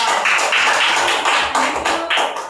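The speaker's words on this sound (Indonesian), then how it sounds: "Sekali lagi kita tepuk tangan untuk kelompok yang" Classmates in a school lesson clap for a presenting group, a dense, steady burst of many hands filling the room for a couple of seconds, loud and close with no talk over it.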